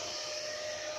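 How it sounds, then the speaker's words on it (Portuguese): An inverter welding machine hums steadily with a constant whine and fan noise, running close by for about a second with no talk and no audible shutdown. "Deixa eu desligar minha inversora aqui."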